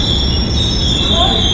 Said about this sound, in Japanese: 電車来たー。